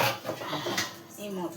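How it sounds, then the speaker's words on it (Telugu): A lid goes onto a cooking pot with a brief metallic clatter of cookware, close by, while someone speaks over it. "ఈ మూత పెడతాను."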